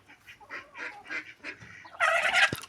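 Fowl squabble in a coop as chickens peck a goose, a series of short honking calls followed by a burst of harsh, louder squawking near the end.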